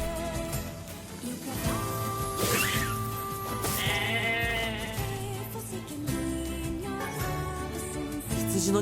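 Sheep bleat several times in the video game NieR Replicant, heard over dense background music that plays steadily throughout.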